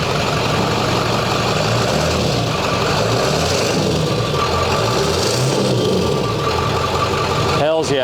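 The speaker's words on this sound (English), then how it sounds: "Rev it a little bit." A turbocharged car engine idles loudly and rumbles close by, with a low steady drone and slight swells, under background chatter.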